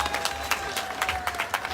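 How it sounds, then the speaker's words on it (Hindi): A crowd at an outdoor political rally in Raina, Purba Bardhaman, West Bengal, claps in a brief, dense burst of applause with sharp, overlapping hand claps at a steady level. "जरा तालियां बजाकर स्वागत करें।"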